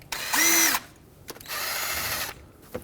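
Power tool with a 10mm socket breaking free fuel injector bolts on a 1998-2011 Ford Ranger 4.0L V6, two close whirring bursts, the first briefly pitched higher, separated by small clicks.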